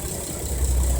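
Engine of an aquaculture work boat running steadily, a constant close low rumble with a faint rattle and no speech.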